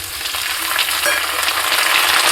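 Steady, loud sizzling of tomatoes frying in hot oil, a dense crackling hiss that continues throughout without any talking.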